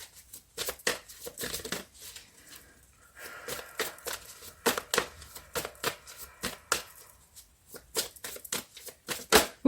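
A deck of tarot cards is shuffled by hand to draw a card, giving a rapid series of crisp riffling and slapping bursts, close and fairly loud, with no talking.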